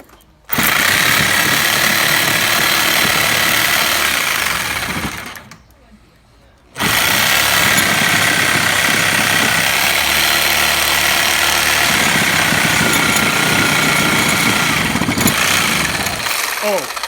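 A Sawzall reciprocating saw cutting outdoors in winter, a loud harsh buzzing drone that runs for several seconds, cuts out briefly, then resumes at full strength, with a catch where the blade binds.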